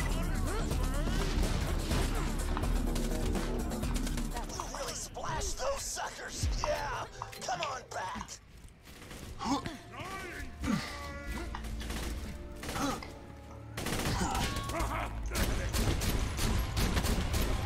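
Gunfire in the video game Borderlands 2 during a firefight, a dense, loud mix of weapon shots and crashes running throughout under game music and effects, with someone talking excitedly over it.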